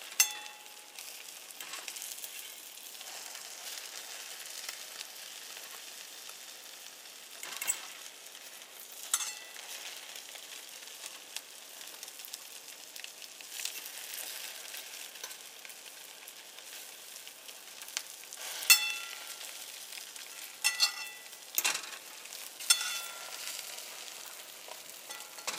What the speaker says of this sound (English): They're barely frying.